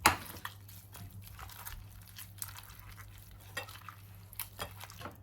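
Crushed curry leaves and garlic sizzle and crackle in a hot pan for coconut milk rasam, with a steady low fry broken by intermittent scraping and stirring clatter from a utensil, fairly close and moderately quiet.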